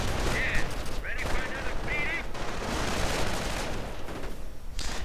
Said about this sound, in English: Snipers sniping away.